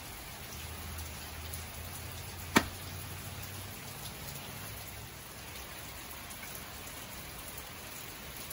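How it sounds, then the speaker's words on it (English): Continuous rain falls in an even patter of drops, interrupted once by a single sharp tap partway through. "Thursday, raining again."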